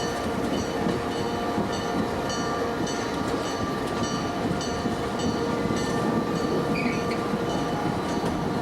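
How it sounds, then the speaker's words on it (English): A container freight train on the Panama Canal Railway between Panama City and Colon rolls by with steady rumbling, rhythmic wheel clatter and occasional faint squeals, continuous and moderately distant. "The evening container train is all set up, waiting for us."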